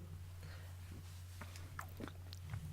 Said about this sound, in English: I'm chewing, and God knows nobody wants to hear chewing on a microphone.